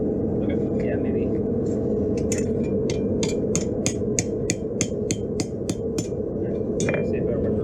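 A hammer strikes a chisel on steel while a leaf is being forged. About a dozen crisp, evenly spaced metallic blows ring out close by, over a steady low roar with some talk.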